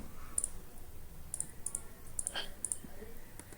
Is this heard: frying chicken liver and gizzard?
no